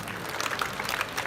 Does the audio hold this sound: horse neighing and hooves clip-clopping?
no